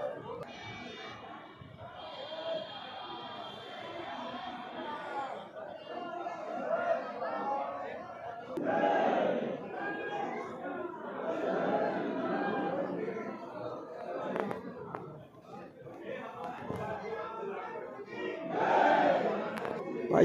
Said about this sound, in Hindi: हनुमान गढ़ी पे हनुमान जी के दरबार में यहाँ पे भीड़ लगी पड़ी है